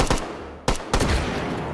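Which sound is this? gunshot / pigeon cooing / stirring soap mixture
gunshot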